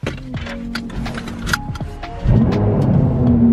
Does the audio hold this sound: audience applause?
no